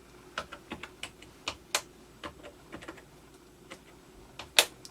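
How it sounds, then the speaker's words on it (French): Soft, irregular clicks of fingers pressing keys on a Monetel ACS bus ticket machine keypad, close and faint against a quiet background hum, with one sharper tap near the end. "Donc là je fais déverrouillage. Donc je tape mon numéro de code."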